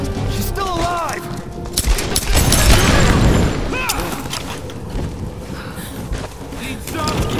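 Gunfire in the Tomb Raider video game, a battle near a communication tower, with several loud bursts and booming shots spread across the stretch amid shouting voices and game noise.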